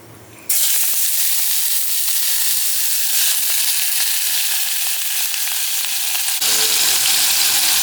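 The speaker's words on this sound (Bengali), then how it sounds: "কিছু বোনলেস চিকেন নিয়েছি, এটা আমরা অল্প করে ফ্রাই করে নেব।" Boneless chicken frying in a pan, a loud, dense sizzle that bursts in suddenly and holds steady throughout, with brief crackles and faint stirring beneath.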